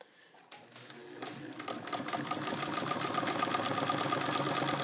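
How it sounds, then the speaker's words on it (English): Heavy-duty Singer 66 sewing machine with a crinkle finish stitching through leather over a quarter inch thick, starting from quiet and building into a steady, close, loud mechanical whir with rapid needle clatter. "this is well over 1/4 of an inch of leather, and it's sewing just fine"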